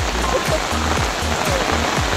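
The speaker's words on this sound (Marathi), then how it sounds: "पाऊस पडत आहे आणि त्यामध्ये सगळे शेतकरी शेत लावायला जोराने मदत करत आहे" Heavy rain pours down steadily on farm fields in a dense, continuous hiss with no pauses and no voices.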